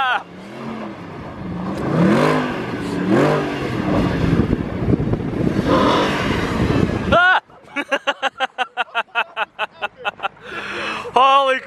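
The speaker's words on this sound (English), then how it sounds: "That is snow donuts in a SLS Black Series." A Mercedes SLS Black Series revs while spinning donuts in snow. A loud, rough engine roar runs under excited talk, then breaks into a rapid series of sharp, evenly pulsed bursts.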